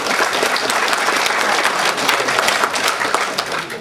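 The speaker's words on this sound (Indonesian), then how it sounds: "Alangkah baiknya kita sesamanya memberikan aplaus kepada kita semuanya." An audience at a book discussion gathering breaks into steady, loud applause, dense clapping that continues evenly without a break.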